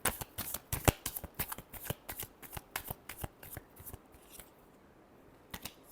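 Tarot cards are shuffled up close in quick, crackling riffles and flicks, a dense run of sharp papery snaps that thins out and pauses before a last couple of flicks.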